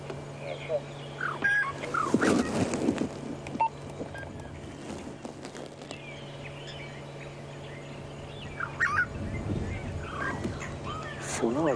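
Starlings calling at sunrise in Sabi Sand, heard as scattered harsh chattering calls at moderate distance over a constant low hum, with a louder burst near the start and another toward the end.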